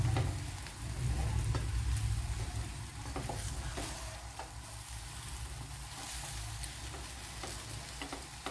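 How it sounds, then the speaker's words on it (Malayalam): Masala is stirred into a gooseberry pickle in a home kitchen, giving a continuous sizzling, scraping bed of sound with occasional soft clicks of the spoon, close and steady for several seconds. "മസാലയൊക്കെ എല്ലായിടവും പിടിക്കുക അങ്ങനെയൊക്കെ ആക്കി നല്ലവണ്ണം."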